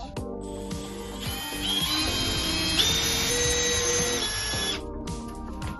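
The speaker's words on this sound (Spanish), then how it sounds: "aquí tenemos dos en cada lado donde vamos a hacer los agujeros. Así que taladramos." Power drill boring holes in a door to mount a Yale hydraulic door closer, a steady whirring motor with a rising high whine as the bit cuts in, close and continuous for several seconds.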